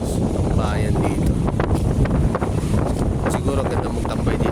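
Strong wind on the Sampaloc Lake boardwalk in San Pablo, Laguna, buffeting the microphone in a loud, steady roar with gusty swells, up close and continuous, while a person talks over it.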